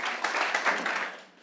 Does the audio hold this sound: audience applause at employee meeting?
yes